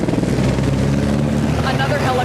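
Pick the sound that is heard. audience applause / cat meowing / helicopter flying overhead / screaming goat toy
helicopter flying overhead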